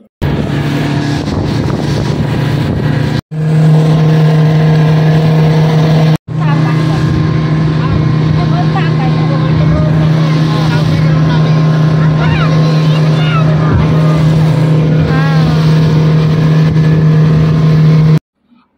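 A boat somewhat larger than an ordinary country boat runs its engine on a picnic ride to Hirihutta, giving a loud, steady drone with a strong low hum, briefly cut twice, while people talk faintly underneath.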